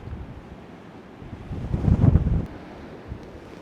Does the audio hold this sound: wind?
yes